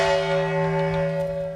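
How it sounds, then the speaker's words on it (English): The UN peace bell rings with a sustained, steady metallic tone, its humming overtones lingering loud and clear with no voices over it. "UN Secretary-General Antonio Guterres rings the UN peace bell"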